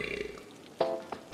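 A single loud, close burp from a soda radio advertisement in the city-building video game Cities Skylines, a short throaty belch following a brief spoken line.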